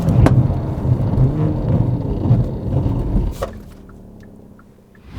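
A 2022 Hyundai Elantra N braking hard to a complete stop, heard as loud road and engine rumble from inside the car that fades as it slows, ending in a quieter cabin.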